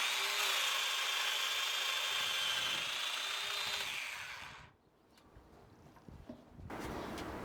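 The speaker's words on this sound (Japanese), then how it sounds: "このドミノと書かれた部分にこのドイツ製のフェスツールドミノを使ってほぞ穴を開けていきます。" A German-made Festool Domino joiner cuts mortises in Japanese cypress boards for a DIY wooden deck, giving a loud, steady motor whine and cutting rasp that stops after about four and a half seconds, followed by quieter handling noises.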